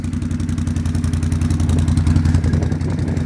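A fuel-injected V-twin Can-Am 500 Max XT Camo edition ATV runs on its stock factory muffler, giving a steady, loud, close-up thrumming idle with a faint clattery edge and a slight swell in revs partway through.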